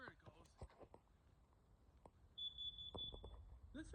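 A home smoke alarm under test gives a steady high beep of about one second, in a room with someone moving and handling things nearby, a faint voice murmuring now and then.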